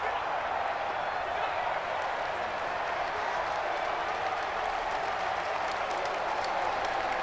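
A steady, dense wash of stadium crowd noise and applause from a simulated American football video game of New England Patriots vs Buffalo Bills, continuous and even throughout with no clear single voice.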